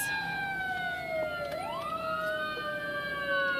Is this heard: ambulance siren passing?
yes